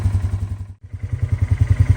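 2023 Polaris Sportsman 570 Premium ATV engine idling up close, a steady low throbbing pulse with a brief dip in the middle before the even chugging resumes.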